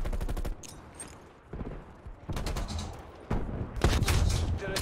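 Gunfire in the video game Black Ops Cold War, played on the Nuketown map: rapid bursts of automatic shots come in several clusters separated by brief pauses, sharp and close.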